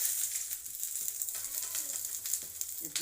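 Elai parotta frying in a little oil on a pan, giving a steady soft sizzle with faint clicks, close and continuous with no talking.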